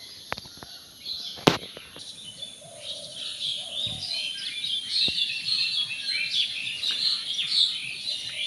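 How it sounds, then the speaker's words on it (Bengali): Morning birdsong chirps and tweets from several unseen birds, high bright calls layered over a soft background, with a few sharp knocks early on; no voices. "পাখির কিচিরমিচির ডাক শুনতে ভালো লাগে সকালবেলা।"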